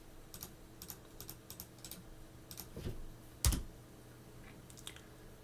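Rapid keystrokes on a computer keyboard entering a build command in a terminal, a quick run of light clicks with one sharper, louder tap near the end, close and isolated with no voices.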